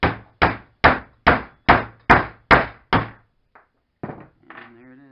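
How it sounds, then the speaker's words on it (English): A small sledgehammer taps a new timing cover part into place on a 1997 Nissan Pathfinder engine: eight evenly spaced, sharp metallic thunks, then a pause and a few softer knocks and clatters. "for the most part I just use this and use the small sledge here"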